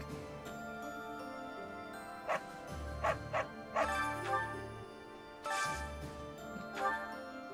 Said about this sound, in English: It's an interesting place for a dog to be hanging out.